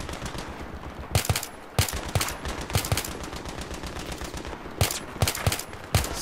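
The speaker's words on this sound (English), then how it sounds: "Single shotting like a fiend." Single gunshots fired one at a time in Battlefield 3, sharp close cracks spaced irregularly at roughly half-second to one-second gaps, several in a row over a steady background of game noise.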